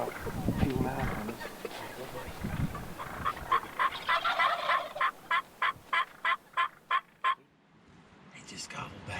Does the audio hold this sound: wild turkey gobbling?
yes